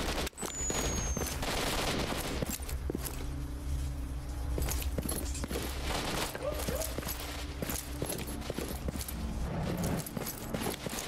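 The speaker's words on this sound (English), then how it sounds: "the game ambushed me in a wonderful way by dropping me into the center of all that gunfire" Gunfire in an ambush in the video game Stalker: Shadow of Chernobyl cracks out as sharp, scattered shots and bursts over a steady game background, with faint voices in the mix.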